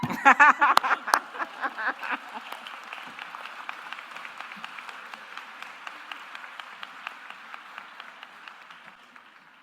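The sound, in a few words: audience clapping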